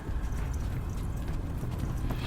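War horses' hooves clip-clop steadily alongside marching soldiers escorting a prison carriage, a dense, moderately quiet patter with no voices.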